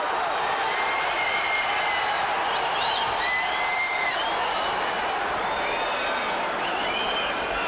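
A large crowd at a boxing match roars steadily, with whistles and shouts rising above the dense cheering throughout and a commentator's voice partly buried beneath it.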